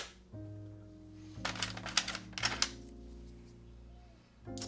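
Clicky mechanical keys clatter in a few quick bursts during a coding typing test, sitting over a steady background hum, with quiet gaps between the flurries.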